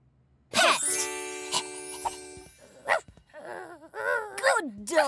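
A cartoon dog in an educational children's animation gives several loud, close barks, yips and whimpers in uneven bursts, with a sustained musical tone under the first part.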